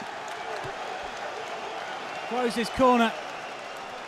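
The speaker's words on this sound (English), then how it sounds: "greeting with a round of applause" Crowd applause and cheering at a James DeGale versus George Groves boxing match, a steady broad roar from the arena with a commentator's voice rising briefly over it near the end.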